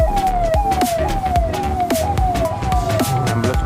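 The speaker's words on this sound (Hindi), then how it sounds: "एम्बुलेंस को रास्ता पहले देना चाहिए हमें।" Ambulance siren on a road in Noida, a loud, close, repeating falling wail cycling about every half second over traffic noise.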